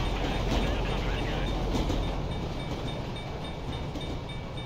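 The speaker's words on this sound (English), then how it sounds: "The one time that we need to get through, a train has come." A train passes in Grand Theft Auto V, producing a loud, continuous rumbling roar with faint rhythmic wheel clatter, heard close by and steady for several seconds.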